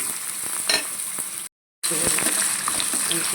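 Green chillies and ridge gourd pieces fry in a pan with a constant close hiss and light crackling, broken by a brief cut to silence midway before the sizzle resumes.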